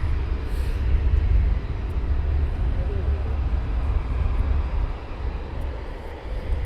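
A military jet aircraft taxiing toward the runway at RAF Coningsby, heard as a steady low engine rumble and roar from a distance, constant throughout with a slight fade near the end.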